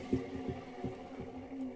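A 15-year-old washing machine spinning at 1400 rpm with a rhythmic low thumping knock, roughly three heavy beats in under two seconds over a steady mechanical hum, close and moderately loud.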